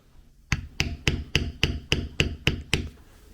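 A leather beveling tool struck by a mallet while tooling a floral design, producing nine sharp, evenly spaced taps in quick succession, close and crisp with no talking.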